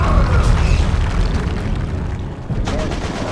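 An ordnance strike in Warhammer 40K Dawn of War II Chaos Rising sends a loud rumbling explosion that slowly fades, then a second burst of blasts near the end, with game voices mixed in.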